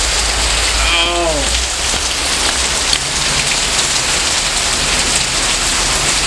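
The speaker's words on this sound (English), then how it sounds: "That is a lot of fucking rain." Heavy rain pours down steadily during a thunderstorm, a dense continuous hiss close by and loud throughout, with a brief voice near the start.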